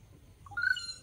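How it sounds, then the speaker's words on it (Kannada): A short, high bird call rings out over quiet background rumble in a hillside forest, a brief rising whistle that is moderately close. "ನೋಡಿ ಈಗ ಹಕ್ಕಿ ಒಂದು ಹೋಗ್ತದೆ."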